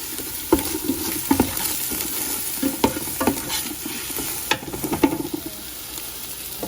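Spices and aromatic paste for a Khmer kreung rib dish sizzle steadily in a hot pan, with a spoon scraping and knocking against the metal every second or so, close and loud without any talk.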